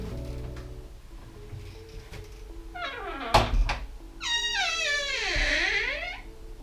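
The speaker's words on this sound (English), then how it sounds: "So here is the squeaky door." A squeaky door creaks open in rising and falling tonal squeals, one short whine then a longer wavering groan after a knock, close and clear with no talking.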